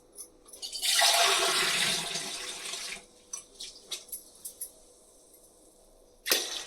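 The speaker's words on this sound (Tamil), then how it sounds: "இன்னொரு டம்ளர் தண்ணி ஊற்றணும்" Water from a tumbler splashes into a cooking pot in a loud gush lasting about two seconds. Faint clinks and taps follow, then a short sharp knock at the end.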